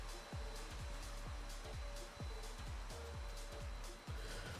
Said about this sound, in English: We do have a vacuum cleaner running